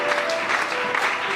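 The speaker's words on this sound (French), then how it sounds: "Acclame Jésus." A church congregation claps together in a brief, dense burst of applause that is loud and steady throughout.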